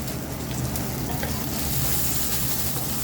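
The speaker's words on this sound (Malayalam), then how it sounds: "മഞ്ഞപ്പൊടി ഇട്ട് ഇങ്ങനെ നന്നായി വഴട്ടും അല്ലേ?" Turmeric powder sizzles steadily in a pan of frying tomato for a chicken curry, a loud, continuous crackle with faint stirring scrapes and no pauses.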